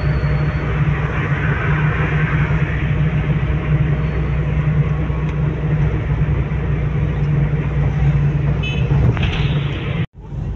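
A car driving through busy market streets after iftar, a loud continuous engine and road rumble heard from inside, steady throughout before a sudden brief drop near the end.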